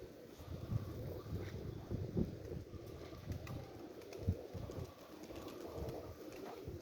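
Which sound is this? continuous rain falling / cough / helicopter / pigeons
pigeons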